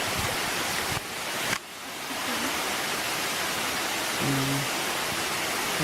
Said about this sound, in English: here we are at one of the larger waterfalls in this series